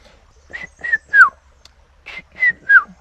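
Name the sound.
whistled imitation of Piet-my-vrou (red-chested cuckoo) call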